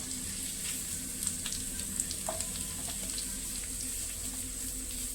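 Finely chopped onions, two of them, frying in a pan of oil with cardamom, cloves and a piece of cinnamon, giving a steady, close sizzle and hiss with a few faint clinks of stirring throughout.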